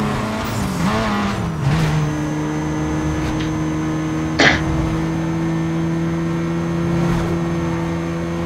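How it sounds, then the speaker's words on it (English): Car engines in a drag race in Need for Speed Most Wanted on Xbox, a steady, loud droning hum with shifting pitch and a brief sharp burst midway. "Alright, let's do a drag race."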